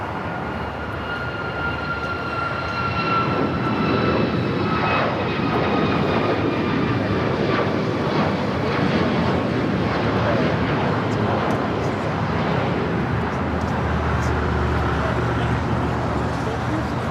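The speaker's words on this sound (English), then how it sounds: "Next takeoff, United Airlines Flight 2377 heading to Houston. It's a 737 at max 9." A United Airlines Boeing 737 MAX 9 jet takes off at LAX with a steady, loud engine roar. Thin whining tones drift through it, and it holds for the full seventeen seconds under a voice talking.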